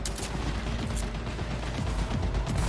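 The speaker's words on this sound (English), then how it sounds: "I like the gun sound." Dense, continuous rapid gunfire from the video game Cyberpunk 2077, loud and layered with booming low-end impacts, no talking.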